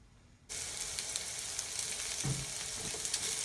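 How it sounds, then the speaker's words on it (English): White onions hit hot extra virgin olive oil in a pan with an abrupt onset of loud, steady hissing sizzle that continues close and unbroken, with no talking over it. "we got our white onions dumped in our pan"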